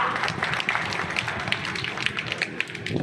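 Outdoor political rally crowd applauding a municipal council chairman candidate, steady dense clapping from many hands at a distance, fairly soft and continuous throughout.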